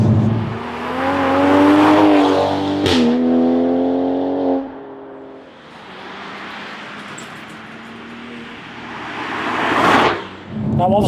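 A tuned, 700hp single-turbo Toyota Supra with a B58 engine revs hard through the gears, pitch climbing then dropping at crisp shifts, with a sharp crack between pulls and a second surge near the end. Voices run underneath.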